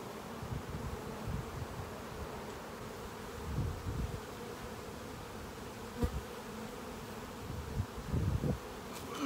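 Honeybees buzzing around an open hive during an inspection, a soft continuous drone with swelling passes as bees fly close, fairly faint, with occasional light knocks and no talking.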